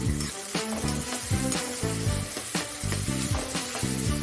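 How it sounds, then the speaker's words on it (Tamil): Onions sautéing in a pan for brinjal thokku give off a close, steady sizzle and crackle, heard alone with recurring stirring pulses and no talking. "இப்போ நல்லா வெந்து வரட்டும் வெங்காயம் நல்லா வதங்கி வரட்டும்"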